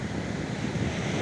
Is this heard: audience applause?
no